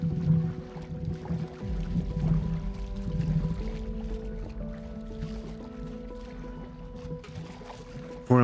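A kayak paddle dips and swishes in calm water at Louvre Abu Dhabi, giving faint, close liquid splashes and drips with a low background hum and no talking.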